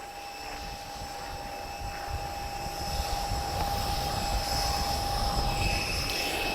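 A Spitfire flies at an airshow in Portugal, its engine a continuous distant drone that grows gradually louder, with steady background hum and no talk.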